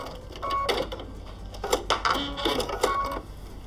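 A home sewing machine runs in short bursts of rapid mechanical whirring as it quilts close around the edge of a circle on a daisy quilt block, stopping and starting several times with no voices.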